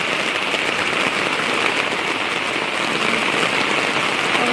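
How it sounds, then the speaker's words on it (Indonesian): Heavy rain pours down on a vegetable garden in a dense, even hiss that stays loud and unbroken throughout, with no voices. "Wow, hujannya gede."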